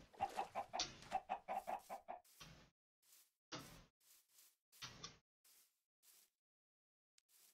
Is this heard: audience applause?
no